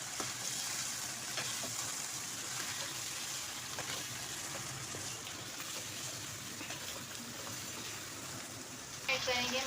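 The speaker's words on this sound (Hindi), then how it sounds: "अब मैं इसमें अदरक लहसुन पेस्ट ऐड करूँगी। अब हम इसको मिक्स करेंगे।" Chicken sizzles steadily in a pan as ginger garlic paste is stirred in for a Chicken Lahori dish, a faint, even hiss of frying throughout with a small clatter near the end.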